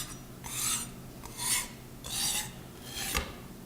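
A kitchen knife is drawn along a sharpening stone in four long, rasping strokes with short pauses between them, each stroke close and even, with no talk over it.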